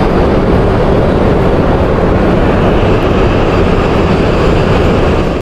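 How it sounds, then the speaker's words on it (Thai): A Japanese high-speed train pulls into a station with a loud, steady, broadband roar and rumble that fills the whole stretch without letup, no voices over it. "มาแล้วนะครับรถไฟของเรานะอันนี้นะ"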